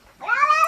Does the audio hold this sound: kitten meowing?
yes